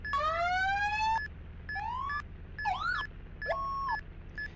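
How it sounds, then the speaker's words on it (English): Heavy tanker fire truck siren from the Roblox game ER:LC, loud and close, cycling through rising wails, fast warbling yelps and steady tones, with a repeating beeping pulse between bursts and no talking. "So let's see then if they've changed the sirens at all."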